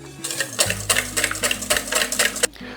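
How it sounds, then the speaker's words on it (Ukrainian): Cream being whipped with an electric mixer: a low motor hum under quick, rhythmic rattling beats against a bowl, close and steady. "Першим ділом збиваємо вершки."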